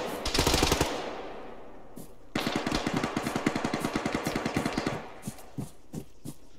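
Heavy 50-caliber machine gun fire in a video game: a short loud burst, then a longer rapid rhythmic stream of shots trailing off into a few scattered single reports.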